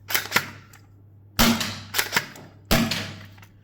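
A Worker Taishan toy blaster fires three loud, snappy shots, each followed by smaller mechanical clacks of the priming action, over a low steady hum.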